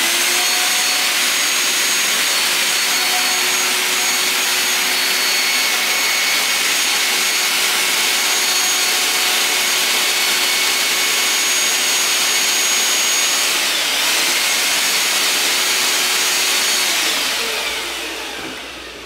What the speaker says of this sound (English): I'll turn the leaf blower on.